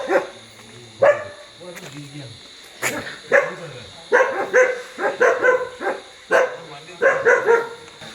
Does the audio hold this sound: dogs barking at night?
yes